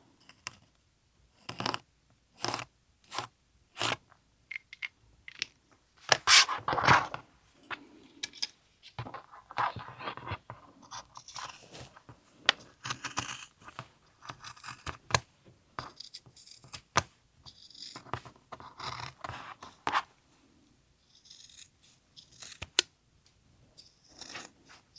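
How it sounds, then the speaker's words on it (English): Scissors snip through fabric cut for microwave bowl cozies, giving a run of sharp, close clicks and crunches, some bunched and some spaced out, with no voices. "Cut this with a pair of scissors."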